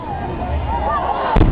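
Fireworks set off by a fire brigade during a daytime safety demonstration ahead of June festival season: a hissing, whining build gives way to a single sharp, loud burst near the end.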